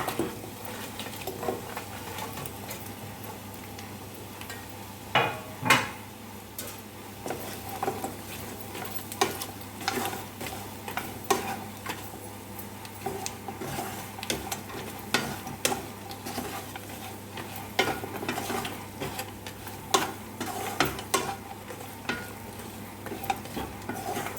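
Pre-fried sweet potato pieces are tossed into a pan for a Telugu-style sweet potato fry, with a soft continuous sizzle under frequent clacking stirs and scrapes of the spoon against the pan.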